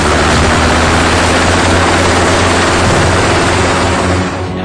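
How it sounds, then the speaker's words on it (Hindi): Loud, steady roar of an Apache helicopter's engine and rotors at Pathankot air base, a dense continuous drone that stays constant throughout with no voices. "इसके बाद अपाचे हेलीकॉप्टर्स की तैनाती air chief marshal BS Dhanoa की मौजूदगी में पठानकोट एयरबेस पर की गई।"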